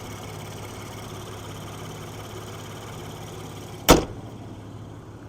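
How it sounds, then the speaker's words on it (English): A 2022 Ford Bronco Raptor's 3.0-liter twin-turbo EcoBoost V6 idles with a steady, low, even hum, broken once near the end by a sharp thud like a door closing. "there's that 3-liter EcoBoost V6"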